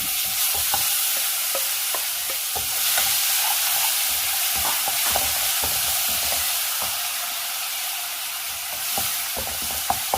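Crushed tomatoes sizzle in a pan with turmeric while being sautéed on low heat for rasam. A bright, steady hiss runs throughout, punctuated by frequent sharp spoon scrapes and taps, close and with no talking.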